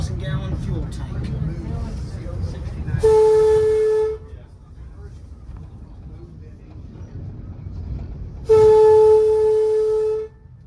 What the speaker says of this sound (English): Pride of the Southern Crescent herself. Yep, she's an E8. Built by EMD 1951.